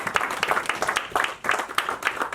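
Church congregation applauding the Lord during a sermon, a dense rolling clatter of many hands clapping together, close and lively for the whole stretch, with faint voices mixed in.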